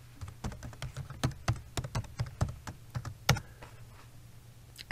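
Crisp individual keystrokes as a BitLocker password is typed on a computer keyboard, a quick run of about a dozen clicks that tails off into quiet, no talking.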